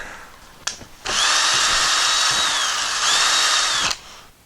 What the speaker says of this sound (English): So now I'm going to use my countersink bit, and I'm going to countersink a couple of spots here under this frame here